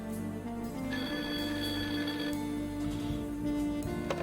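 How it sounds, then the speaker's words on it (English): Telephone ringing in the Blackwell Unbound game, a repeated electronic ring pattern heard over a soft steady background hum. "That sounds like a phone."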